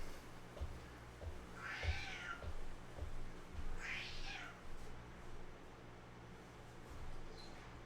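A male house cat meows to be let outside, giving two clear, plaintive meows a couple of seconds apart at moderate distance in a quiet room with faint low background noise.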